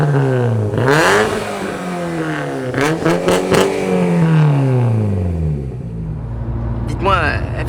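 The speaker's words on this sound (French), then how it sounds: "fait plutôt un joli bruit pour un taxi." A small taxi car engine with an aftermarket exhaust and the valve closed revs repeatedly up and down, loud and close, the pitch sweeping high and dropping with each blip while people talk over it.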